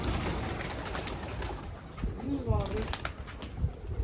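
Pigeons in a loft, a soft coo and a burst of fluttering wing flaps amid scattered bird sounds, with people talking nearby.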